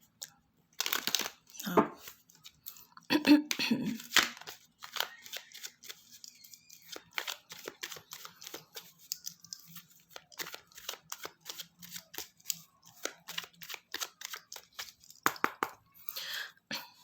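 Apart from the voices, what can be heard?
shuffling tarot cards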